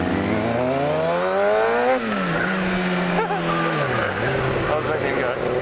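A Kawasaki 636 sport bike with a stalling problem revs up and down at a traffic light, its engine pitch sweeping upward and dropping back in loud, close surges while someone talks over it.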